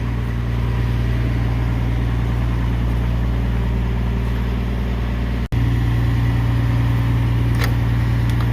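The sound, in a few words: log loader engine running while shifting gears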